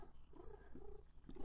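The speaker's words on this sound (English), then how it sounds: "So if you hear purring in the background" A cat purrs quietly in the background of a room, a faint, continuous low rumble with soft rhythmic pulses of breath, close but subdued, with no talking over it.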